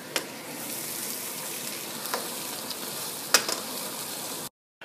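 Stuffing for chicken majboos, with potatoes, fries in a pot with a steady close sizzle. A few scraping knocks of stirring break through before it cuts off abruptly.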